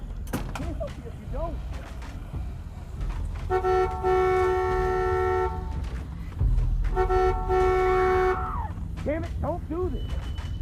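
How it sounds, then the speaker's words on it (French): Car horn honking in The Walking Dead Season 2 video game: two sustained blasts of about three and two seconds, loud and close, amid game ambience and a voice speaking. "Peut-être le klaxon ou quoi?"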